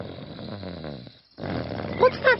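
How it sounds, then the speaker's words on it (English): Deep rasping snores rumble in slow breaths, briefly pausing before resuming, with a couple of higher vocal squeaks near the end. "It sounds like snoring."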